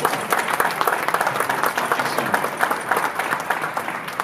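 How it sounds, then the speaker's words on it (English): A quick round of applause from an audience at a London Fintech Week startup event, with many hands clapping in a steady, crisp patter for about four seconds and no talking over it. "can we have a quick round of applause for Z"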